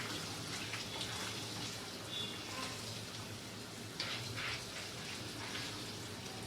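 Tap water runs steadily and close while rice is washed in a strainer, a continuous gushing splash with small shifts in flow and no speech.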